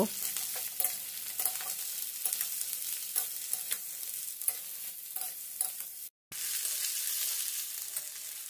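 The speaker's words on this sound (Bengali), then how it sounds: "এবার বিট, গাজরকে 2 মিনিটের মতো প্রথমে নেড়ে চেড়ে নেব।" Chopped beetroot and carrot fry in a wok under a constant crackling sizzle, with a quick, regular scrape-and-tap rhythm of stirring and one brief silent gap.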